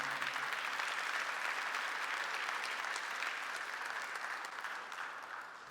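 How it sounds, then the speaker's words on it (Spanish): Sustained applause from a church congregation, a broad, even roar of many hands clapping heard from a distance and fading slightly toward the end. "Dale un aplauso fuerte al Señor."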